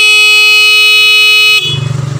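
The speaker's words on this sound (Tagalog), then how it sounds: "So, tutunog po yung busina." A car alarm blares the horn in a long, steady, loud tone, then cuts off into a rougher, pulsing engine-like rumble.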